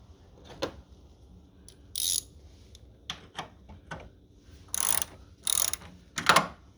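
A ratchet tightening the bolt of a car engine grounding strap, heard as short bursts of sharp clicking in separate strokes with pauses between them, close and clear.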